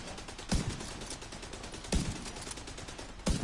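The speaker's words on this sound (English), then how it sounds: "I'm on him again with my fucking Gatling gun" A Gatling gun in the video game The Division 2 fires as a steady, rapid rattle heard at moderate distance, broken by three heavier thumping impacts spaced about one and a half seconds apart.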